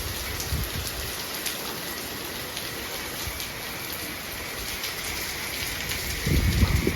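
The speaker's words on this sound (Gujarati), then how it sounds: "ધોધમાર વરસાદ વરસી રહ્યો છે" Heavy downpour in Nadiad, Gujarat, with streets flooded all around, a dense, continuous hiss with a low rumbling surge near the end; no voices.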